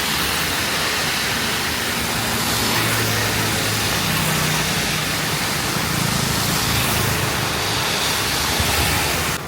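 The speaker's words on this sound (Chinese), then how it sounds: "这摩托车也真是勇嘛！ 这么大的雨，而且开得好快。" Heavy rain pours in a dense, steady hiss while a motorcycle speeds through it, its engine rumble low and buried in the broad roar of water.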